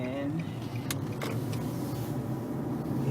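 A car moving through traffic on Westheimer, with a steady low road and engine rumble inside the cabin, a few faint passing sounds, and a person talking over it.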